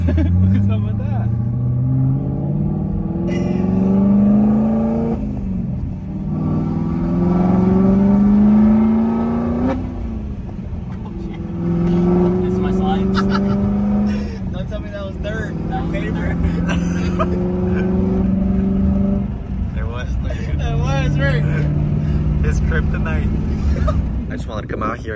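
Modified 2023 Chevrolet Camaro 1LE tuned to about 600 hp, its engine revved repeatedly through the exhaust in loud rising and falling sweeps, with people talking over it throughout.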